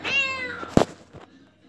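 A kitten meows close by in a long, drawn-out wail that fades, followed by a short sharp sound and a quieter tail.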